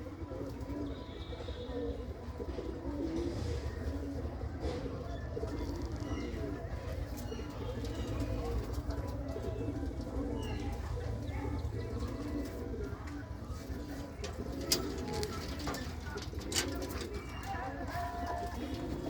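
Many pigeons in a village loft coo in a dense, continuous low warble, near and steady throughout, with occasional faint knocks and clicks.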